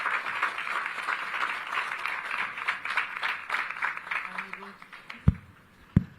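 An audience applauds a new discussion panel at a crime-prevention event in Jamaica, dense steady clapping that fades out toward the end as a few louder close knocks sound.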